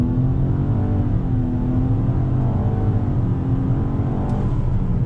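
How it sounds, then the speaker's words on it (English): A 2020 Nissan Maxima Platinum accelerates under throttle on a highway, its engine drone steady and close beneath constant road and wind roar for the whole stretch, with no talking. "rolling out on this highway one more time on throttle"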